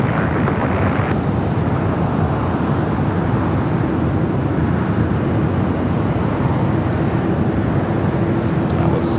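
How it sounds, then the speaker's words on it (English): An Airbus A380 taxis toward the north side of LAX for a takeoff on runway 24 left, a steady, broad jet engine roar holding loud and continuous throughout, with wind rumble and no speech. "This A380 will head up there to the north side for a takeoff on the 24 left."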